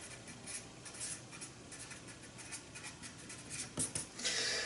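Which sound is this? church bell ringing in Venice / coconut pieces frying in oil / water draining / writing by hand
writing by hand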